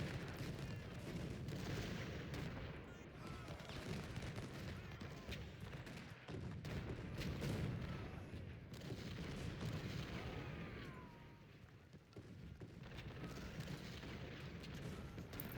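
Cannon and artillery fire in the Civil War strategy game Ultimate General: Civil War, at the Fredericksburg battle: a dense, continuous rumble of booms and gunfire throughout, with no one speaking.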